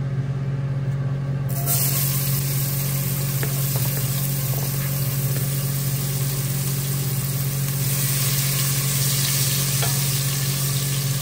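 Onion frying in olive oil in a pan for fish soup with cabbage, a loud continuous sizzle with a steady low hum running underneath throughout.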